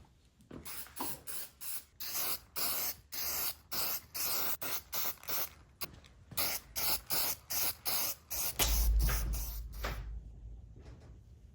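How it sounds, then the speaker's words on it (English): Spray lacquer is applied to a handmade bow bread knife in a rapid run of short, close hissing bursts with brief gaps between them, ending in one longer spray. "I like to just use spray lacquer"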